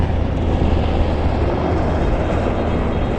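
Black helicopter flying low over the Pasig River, a loud continuous rotor and engine roar that stays steady and close throughout, with no voices.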